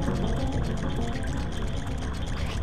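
Steady rushing pour of water filling a room in the Zelda game Majora's Mask, a continuous close wash of liquid with no talk.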